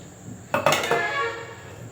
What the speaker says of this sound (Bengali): কড়াইটা বসিয়ে দেবো কড়াইটা ধরে নিয়েছি